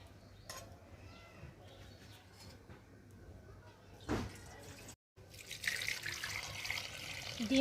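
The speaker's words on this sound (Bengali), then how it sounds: "ডিমে আমি ঠান্ডা জল দিয়ে ডিমটা ঠান্ডা করে নিচ্ছি।" Tap water running over a freshly boiled egg to cool it, a quiet splashing flow that swells louder after a brief gap, with a faint thump midway and no talk.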